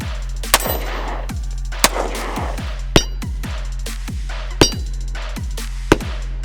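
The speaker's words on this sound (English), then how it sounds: "So let's go ahead and put a couple of rounds on there." A Taurus PT111 G2 pistol fires five sharp, close shots at uneven intervals over a steady low hum.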